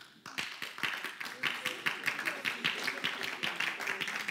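A small audience claps together at a French-language show, a dense, steady patter of many hands close by, sustained for several seconds without talk.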